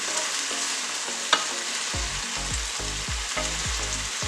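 Vegan stir-fry vegetables sizzle loudly in a hot pan while being given a final mix, with a steady crackling hiss and rhythmic scraping stirs and no voices.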